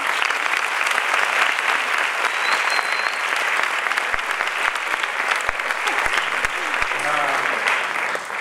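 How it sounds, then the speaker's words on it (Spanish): Sustained, loud applause fills a hall at a festival closing gala, with many hands clapping in a thick, continuous roar for over eight seconds, a few sharper close claps, and a voice briefly rising near the end. "os pido un aplauso para él"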